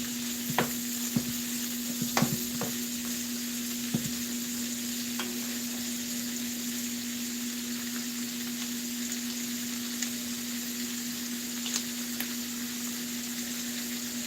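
Andouille sausage browning in a pan for shrimp and grits, a soft, steady sizzle with a constant hum behind it and a few light clicks and taps of a utensil, with no talking.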